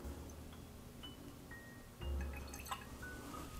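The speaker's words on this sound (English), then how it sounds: "Dripping, drip, drippity, drip, drop." Jack Daniels Barrel Proof Rye whiskey drips from a bottle into a glass with a few sparse, distinct drops and small splashes, close and fairly quiet.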